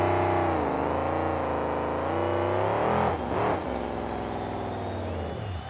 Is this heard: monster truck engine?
yes